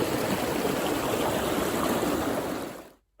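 River water rushes and gurgles in a steady, close, broadband wash on a high mountain trail, then cuts off abruptly near the end.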